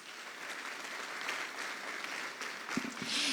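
A crowd applauds at a national dialogue forum on tax revenue, moderate, steady clapping from a seated audience that swells slightly toward the end.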